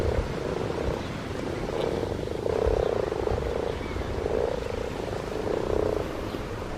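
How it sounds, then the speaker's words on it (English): Frogs croaking their mating calls at a pond, a dense continuous chorus of overlapping croaks with louder swells every couple of seconds, close and steady without any voices. "You hear those croaks, they're mating calls."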